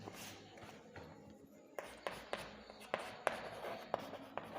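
A pen writes by hand on paper close to the microphone, with soft scratching strokes punctuated by several sharp taps, quiet and steady with no talk over it.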